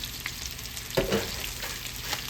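Okra frying in oil, a low, steady crackle and hiss with a brief burst of clattering from the pan partway through.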